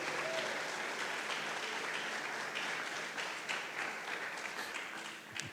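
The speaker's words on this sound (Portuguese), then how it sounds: "Você pode aplaudir a Jesus nessa noite?" Church congregation applause during a Sunday service, a continuous wash of clapping from many hands, steady at first and thinning slightly toward the end, moderately distant.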